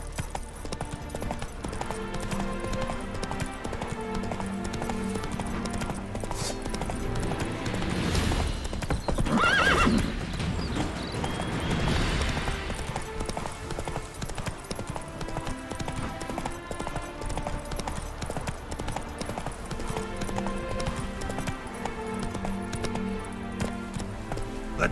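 Geralt's horse Roach galloping in The Witcher 3 Hearts of Stone, rapid rhythmic hoofbeats throughout with a loud neigh midway, set amid game music and ambience.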